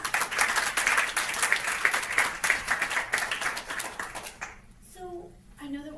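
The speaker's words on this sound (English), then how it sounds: "I want another round of applause." An audience at a congressional briefing on domestic violence claps for a panel in a sustained, dense round of applause that fades after about four seconds, followed by a speaker's voice.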